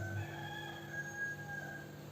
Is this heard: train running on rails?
no